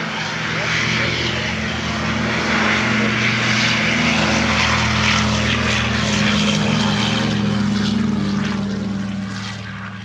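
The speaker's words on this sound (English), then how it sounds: "Their C-47 Skytrain." A C-47 Skytrain's propeller engines drone steadily and loudly, a deep throbbing hum that holds throughout at an outdoor WWII event.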